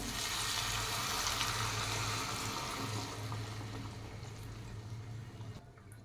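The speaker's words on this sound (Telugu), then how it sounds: "ఒక గ్లాసు వాటర్ పోసుకోవాలి" A glass of water poured into a hot pan of stuffed capsicum masala curry gives a loud rushing, hissing splash that gradually softens into a lower bubbling sizzle.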